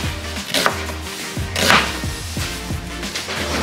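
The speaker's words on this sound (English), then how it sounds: "Let me get these super thin slices." A knife cuts vegetables into super thin slices for ceviche on a cutting board, making a quick run of close, crisp chopping strikes, with a couple of louder cuts standing out.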